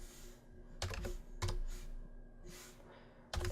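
Keystrokes on a computer keyboard while entering text in Microsoft PowerPoint, heard as a few separate bursts of quick clicks with quiet pauses between them, close and clear with no talking.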